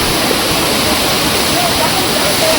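Waterfall on the Nethravathi Peak trek in the Western Ghats, a loud, close, unbroken roar of rushing water filling the whole scene, with a voice faintly audible beneath it.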